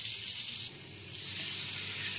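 Oil and butter sizzle in a pan for a kadhi tadka, a bright, steady hiss that dips briefly and then swells louder again, with no talking.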